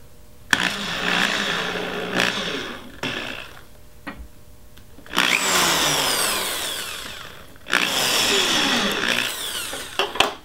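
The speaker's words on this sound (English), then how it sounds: "I need to put a couple of pilot holes in here" A power drill boring pilot holes into a wooden dog crate to mount a hinge: several separate bursts of whirring, a short one and then two longer, louder runs, close by and with no voices.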